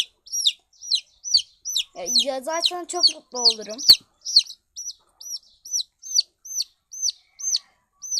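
Baby chicks cheep in a steady run of short, bright, repeated peeps close by, with a brief stretch of speech partway through.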